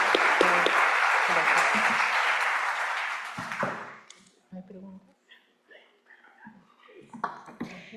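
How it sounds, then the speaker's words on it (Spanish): An audience at an education seminar in Peru gives a teacher loud, dense applause that fades after about four seconds, followed by scattered sounds and a voice speaking. "Fuertes aplausos a la profesora."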